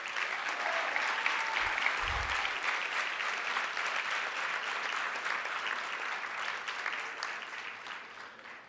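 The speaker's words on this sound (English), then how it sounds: "Give yourselves, and by proxy them, an enormous round of applause." An audience at a moot court world championship round gives sustained, even applause, a dense wash of clapping that holds steady throughout at moderate distance.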